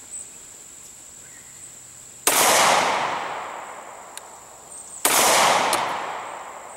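Two sharp 9mm shots from a Caracal C pistol firing Federal HST 124 grain rounds outdoors in humid heat, each crack ringing out with a long decaying echo, spaced a few seconds apart over steady insect buzz.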